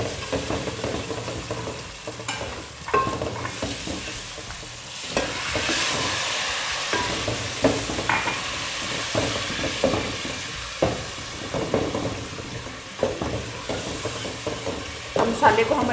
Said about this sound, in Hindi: अब मसाले को हम अच्छे से भून लेंगे